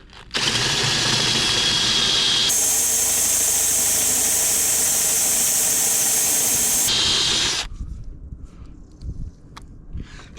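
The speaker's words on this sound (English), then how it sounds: "Just got to be careful that I just drill the head of the bolt" A power drill bores into a bolt head on the engine steady bar of a Classic Mini Cooper, a loud continuous whine that shifts pitch midway, then stops abruptly, leaving quieter workshop clatter.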